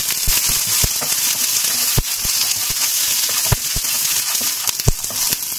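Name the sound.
curry leaves sizzling in tempering oil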